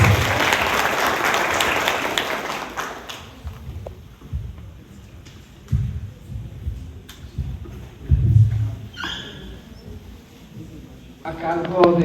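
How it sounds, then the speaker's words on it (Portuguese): An audience at a talk on green propolis and Africanized bees claps for about three seconds, loud at first and then fading. Scattered handling noises and quiet voices follow. "Un fuerte aplauso, por favor, para ella."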